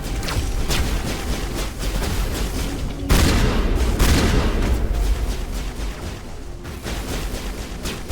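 Shotgun blasts in a Mass Effect firefight, heavy booming shots in a dense, continuous barrage with a louder burst in the middle, mixed with other gunfire and explosions.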